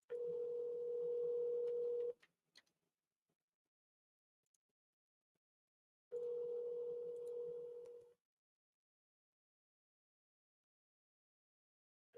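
A telephone dial tone while placing a call rings out in two steady, loud two-second bursts separated by a silent pause, with a few faint clicks in between.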